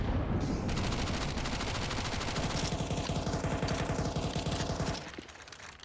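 Rapid bursts of default pistol gunfire in a Counter-Strike match on the Inferno map, sustained and dense for several seconds before tapering off, with no voices over it.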